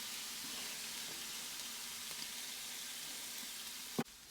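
Carne asada sizzling on a Blackstone griddle just after flipping, a steady, low, even hiss of frying meat that continues throughout and ends with a sharp clank near the finish.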